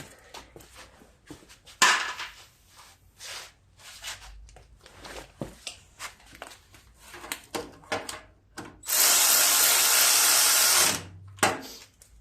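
A bolt is driven back into a Simplicity riding lawn mower with a power tool, irregular close clicks and rattles followed by a loud two-second whirring burst, then a brief final spurt.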